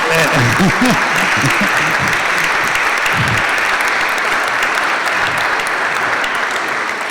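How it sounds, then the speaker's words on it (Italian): Forum audience in Palazzo Chiericati, Vicenza, breaks into a continuous burst of applause, broad and even clapping from many hands, with some voices murmuring over it early on. "Prima di tutto credo un bel applauso a Elisabetta e a Luca"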